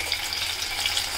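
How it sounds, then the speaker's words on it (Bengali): Mint potato chips frying in hot oil give a steady, dense sizzle with fine crackling bubbles, even and continuous throughout, with no talking. "3 থেকে 4 মিনিটের মতো এপিট ওপিট করে বেশ সুন্দর করে ভেজে নেবেন।"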